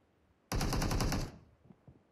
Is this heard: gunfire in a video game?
yes